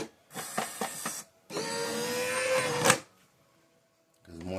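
A Powermatic 5 Plus electric cigarette-rolling machine runs in two bursts of steady motorized whirring and rattling, close and fairly loud, separated by a brief pause, then stops, with another start at the end.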